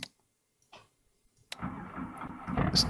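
A helicopter engine in a Helicopter Simulator video game cranks into life after a few clicks and switch sounds, then settles into a steady, building whine and rumble that grows louder toward the end.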